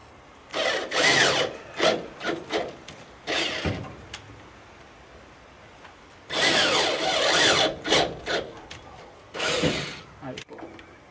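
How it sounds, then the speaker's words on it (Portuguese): Wood-like grinding and drilling bursts come from a drill boring a hole during repair work on a 1969 VW Kombi van, in intermittent loud runs with short pauses between them. "Agora eu vou começar o furo aqui."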